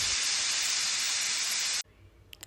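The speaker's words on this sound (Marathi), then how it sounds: "कुकरमध्ये एक शिट्टी घेऊन तो शिजवून घ्यायचा आहे" A pressure cooker cooking spinach lets out a loud, steady rush of hissing steam that cuts off abruptly, leaving faint low background noise and a few tiny clicks.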